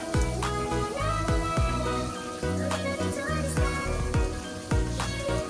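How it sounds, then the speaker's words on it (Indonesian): Bubbling, sizzling boiling sauce in a pan with repeated soft splashes and clinks as fish is dropped in, steady and close. "Kita cemplungin ikannya nih."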